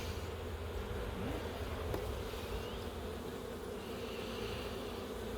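Dense, steady buzzing of honeybees swarming around an open hive during inspection, a continuous insect drone filling the scene with no pauses.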